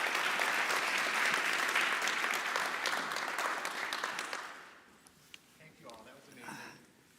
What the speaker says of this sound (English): And round of applause for Stuart, Michael, and Shane.